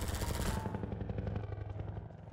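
Helicopter attack in Half-Life 2 VR, with a loud, dense burst of machine-gun fire over a steady low rotor drone, heaviest in the first half-second, then rattling on at lower level.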